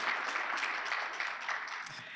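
Guests at a Portsmouth Public Schools State of the Schools breakfast applaud in a hall. Moderate, scattered clapping in choppy bursts thins slightly toward the end.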